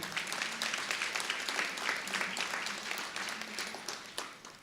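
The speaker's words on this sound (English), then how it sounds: "Let's clap." Audience applause at a Garifuna anniversary celebration in Brooklyn, a steady, dense patter of many hands clapping throughout, moderately loud with a few sharper claps standing out.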